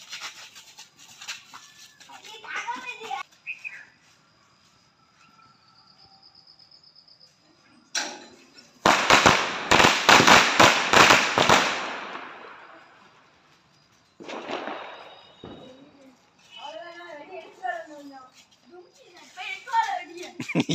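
Diwali firecrackers go off in a loud, rapid burst of crackling bangs lasting a few seconds, with children and adults talking before and after the explosions.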